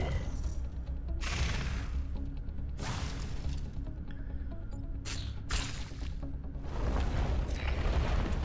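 Fiery bursts and explosions from the turn-based strategy game Into the Breach, several soft booming whooshes arriving in separate waves over a low background hum, with no talking.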